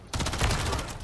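SMG fire in a split-screen shooter video game: one rapid, continuous burst of closely spaced shots, loud and near, lasting about a second with no talking.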